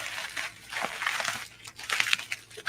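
A cardboard box being torn open by hand, with crinkling and crunching bursts of varying loudness, close up, with no speech heard.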